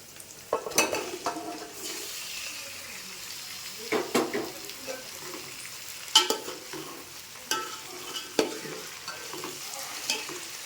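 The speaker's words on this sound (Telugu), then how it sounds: "ఇప్పుడు ఇందులో మనం ముందుగా మ్యారినేట్ చేసి పెట్టిన ఫిష్ని వేసుకుందాం" Marinated fish frying in a hot pan for a Telugu fish curry (chepala pulusu): a steady sizzle runs throughout, broken by several clattering stirs and scrapes of a utensil against the pan.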